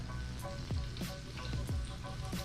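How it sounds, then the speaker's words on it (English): Food sizzles and crackles steadily in a hot pan, with a few sharp pops and scraping stirs, close up and without talking. "Hear that sizzle? I love sizzle."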